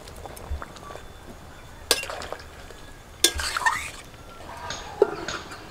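Broccoli florets tipped into a pan of partly boiled potatoes for a broccoli curry, giving a few sharp clinks and rattles of utensil on metal over a soft, steady simmer, fairly close.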